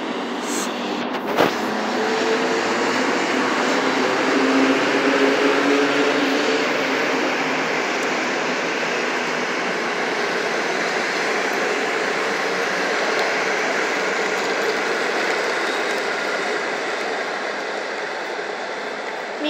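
IC Zefir and Koleje Wielkopolskie 48 WE 010 trains pass each other, a long steady rumbling rush of wheels and rails lasting the whole span, with a sharp click early on.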